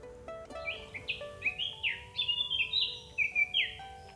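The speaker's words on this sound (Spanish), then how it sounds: "¡Qué canto más bonito! Es una curruca capirotada." A Eurasian blackcap sings at sunrise at a solo camping spot, a rich run of clear warbling phrases rising and falling in quick succession, fairly close and loud over quiet background with no talk.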